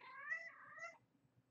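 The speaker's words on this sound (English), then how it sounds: "I got a kitty cat that's running around here in heat" A female cat in heat gives a drawn-out, wavering meow that fades after about a second, indoors and fairly faint, with low background rumble and no talking.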